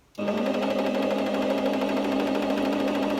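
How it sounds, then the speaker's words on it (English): A Singer Starlet 6680 sewing machine winds a bobbin, starting abruptly and then running as a steady, close motor whir with a fine rapid rattle, holding constant to the end. "I'm now winding my bobbin"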